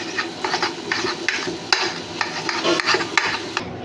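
Eggs frying and being stirred in a pan for chowmein, with a steady sizzle and repeated scraping stirs close by, no voices.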